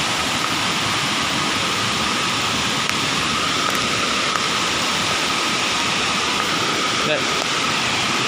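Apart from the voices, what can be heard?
Berkasih waterfall, rushing water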